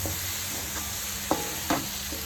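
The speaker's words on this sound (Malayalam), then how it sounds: "വേവിച്ച കടലയും കൂടെ ചേർത്ത് കൊടുക്കാം. ഇത് നന്നായിട്ടൊന്ന് ഇളക്കി യോജിപ്പിക്കാം." Boiled chickpeas and tomato being stirred in a sizzling pan for chickpea curry, a steady low frying hiss with a few sharp spoon scrapes and clacks against the pan, close up and with no one talking.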